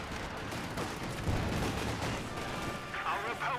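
Machine gun fire in Company of Heroes 2, a WWII real-time strategy game, rattling continuously amid a dense battle mix of explosions and artillery, steady and loud throughout.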